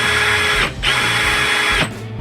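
A power drill spins loudly with wire clamped in its chuck to straighten it, whining steadily with two brief dips in speed before spinning back up.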